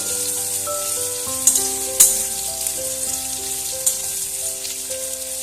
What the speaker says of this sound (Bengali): মিডিয়াম সাইজের পেঁয়াজকে আমি এভাবে লম্বা লম্বা করে কেটে নিয়েছি ভালোভাবে তেলের সাথে মিশিয়ে দিচ্ছি